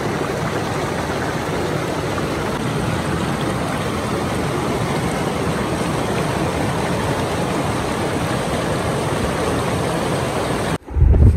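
Mountain river on the Badrinath pilgrimage route near Vasudhara falls, a steady, loud, broadband rush of flowing water, continuous and unbroken, ending with a brief burst of wind buffeting the microphone.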